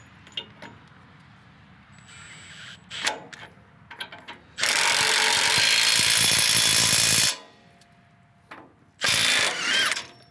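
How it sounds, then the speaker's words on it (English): A Milwaukee M18 FUEL Gen II half-inch mid-torque impact wrench on a high output battery zips off loader bolts in two loud, sustained bursts of hammering, with short clicks and handling noise between them. "Removing the bolts for the loader."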